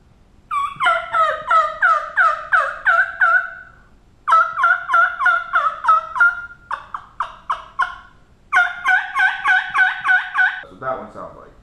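A hunter's turkey call imitates a hen turkey in several rapid runs of yelps and clucks, loud and close, each run a quick string of sharp notes.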